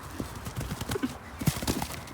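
Horse hooves drum over a cross-country riding course, a run of rhythmic clip-clop footfalls close by with a brief higher snort or whinny mixed in.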